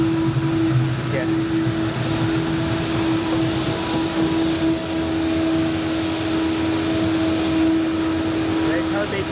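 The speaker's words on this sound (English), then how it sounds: "the truck has kind of sweeping thing and a vacuum" On a Sydney city street, a street sweeper truck runs its brushes and vacuum in a loud, continuous droning roar with a steady whining tone, close by throughout.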